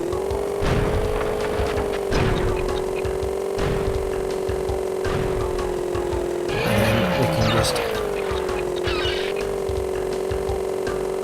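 A go-kart's engine drones at a steady, high pitch in the Crash Bandicoot 3 racing game on PS1, with sharp tyre skids breaking in as the kart slides through corners, loud and continuous throughout.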